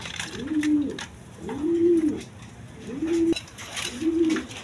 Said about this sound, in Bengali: এখানে এক পেয়ার ফিল্ডব্যাগ কবুতর আছে